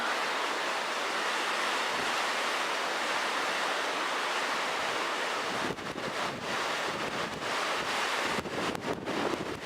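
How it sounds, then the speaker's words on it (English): Strong winter wind blowing snow around outdoors at night, a constant loud roaring rush with heavy gusts buffeting the microphone, no talk. "Man, that wind is shaking it. Just see it blowing the snow around right now."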